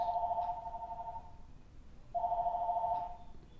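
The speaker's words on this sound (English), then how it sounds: "That's the phone ringing, of course." A telephone rings in two clear electronic bursts separated by a short pause, loud and close with a steady warbling tone and no voices over it.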